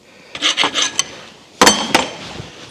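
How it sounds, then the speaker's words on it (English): A hand file rasps against a metal part for an engine priming tool, giving two short bursts of scraping strokes separated by a pause, close and fairly loud with no talk. "So I'm going to file that a little bit."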